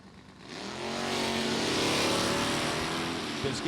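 A 1966 Chevy Biscayne with a 427 and an Oldsmobile Cutlass launch down a drag strip, loud engine roar swelling and holding as the cars pull away.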